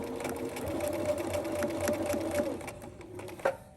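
A sewing machine stitching the side of a zipper pouch and finishing with a backstitch, giving a close, steady motor whir with rapid needle ticks that wind down, followed by a brief clunk.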